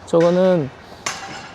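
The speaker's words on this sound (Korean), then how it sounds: "변기 깨는 소리인데, 차에다 일단 실어놓고 변기를 툭툭 이제 깨고 계신데" A porcelain toilet being broken up after being loaded onto a truck during renovation work: one sharp ceramic crack rings out after a brief spoken word, with quiet surroundings before and after.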